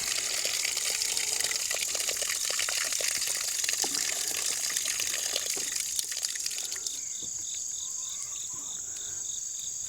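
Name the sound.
water tank overflowing out of the top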